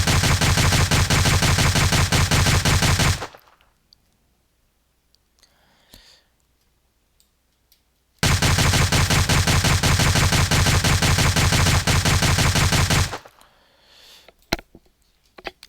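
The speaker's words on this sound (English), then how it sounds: "AK-47 with a drum magazine here." Placeholder AK-47 gunfire with a drum magazine in the video game Trespasser: two sustained loud bursts of rapid automatic fire, each lasting several seconds, separated by quiet gaps with faint clicks.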